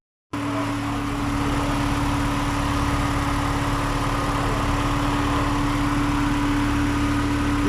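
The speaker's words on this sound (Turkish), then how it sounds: "Motoru ısıtacağız." A Tofaş car engine warming up at idle after repair work, a steady close rumble with a constant low hum that starts abruptly and holds even and loud, with no talking.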